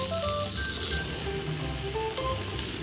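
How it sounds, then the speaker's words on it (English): Bacon and breakfast sausage sizzle on a very hot griddle set on a kettle grill, a steady close crackling hiss with faint scraping, no talking. "I added some breakfast sausage on the outskirts of the griddle. I'm going to add some bacon."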